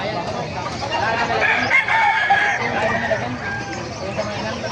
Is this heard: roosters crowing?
yes